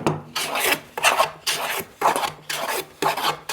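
A hand plane shaves wood from an archtop guitar plate in a steady series of about six crisp rasping strokes, each a brief scraping swish followed by a short pause, close and clear with no talking.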